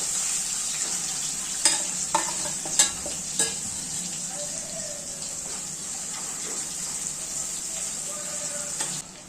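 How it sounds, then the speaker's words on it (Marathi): Oil sizzles steadily in a pan as fish fries, with a few sharp clicks and scrapes of stirring early on, up close and without speech. "परतून घेऊ तेलावर"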